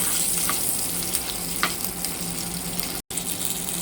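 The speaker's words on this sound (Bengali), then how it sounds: "এখন মাছের পেটে সেটটা ভালো করে ভাজবো।" Koi fish belly pieces fry in a pan with a steady, close, bright sizzle, a few faint clinks of stirring, and a short break near the end.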